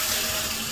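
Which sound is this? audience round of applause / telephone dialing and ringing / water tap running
water tap running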